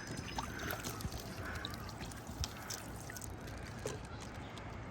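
Water from two bottles filled at a kitchen tap is poured out on a job site to test drainage, giving a steady, close, broadband pouring wash with small splashy transients throughout.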